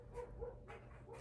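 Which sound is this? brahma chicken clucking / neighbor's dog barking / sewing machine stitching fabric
neighbor's dog barking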